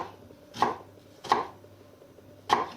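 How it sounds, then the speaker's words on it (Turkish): Three crisp knife chops on a cutting board as onions are finely diced, spaced unevenly about a second apart, close and clear with no talking. "şimdi soğanları küp küp çok küçük bir şekilde doğramayla başlıyoruz"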